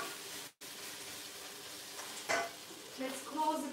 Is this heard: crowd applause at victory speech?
no